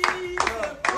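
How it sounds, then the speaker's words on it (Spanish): A few people clapping for the grill cook at an asado gathering, sparse uneven claps close by with a voice talking over them. "aplauso para el asador."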